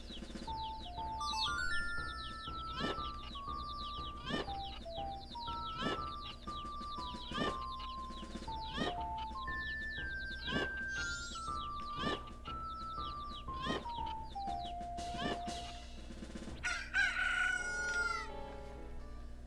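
Chicks and a rooster cry out in Majora's Mask, a video game, with a crowing call and clucking over a game soundtrack of descending chime-like melody notes and a steady background hum.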